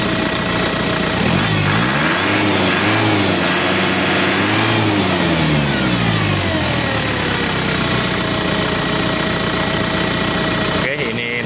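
A car engine held at a steady loud run and revved to raise oil pressure while the oil is hot and thin, the pitch rising and falling under a voice.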